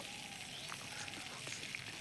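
Potatoes frying in hot oil in a heated wok, a steady close sizzle with scattered crackles and light pops throughout, no voices.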